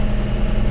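A John Deere tractor fitted with a snowblower, its engine running in a steady, close, loud low rumble with constant vibration and no pauses.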